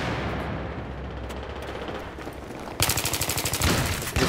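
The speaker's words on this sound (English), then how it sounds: "Let me throw a little grenade." Gunfire in a video game under a continuous wash of noise, then a sudden loud blast as a grenade detonates, followed by rapid, evenly spaced bursts of automatic fire.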